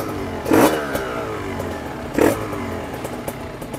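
A 2011 Kawasaki Ninja R fitted with a CMS aftermarket exhaust gives two short, sharp throttle blips over a steady idle, heard up close with no talking.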